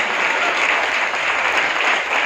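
A church congregation at Friday prayer claps loudly with both hands raised, a dense, continuous wall of applause held at full strength throughout.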